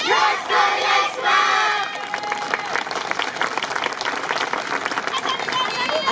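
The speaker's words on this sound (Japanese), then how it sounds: "どうぞご声援のほどよろしくお願いします" Crowd at a yosakoi dance competition in Tokyo cheers and calls out, with shouted voices early on giving way to dense, steady applause and crowd noise throughout.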